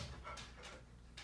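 A dog whimpers faintly in a few short, high whines spaced apart, quiet and close, with no talking.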